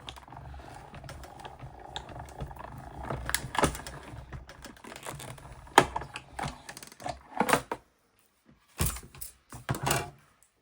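A paper cutter slices craft paper pieces for a stamping project in a series of close, sharp clacks and sliding thunks, irregular and fairly quiet, with short pauses between cuts.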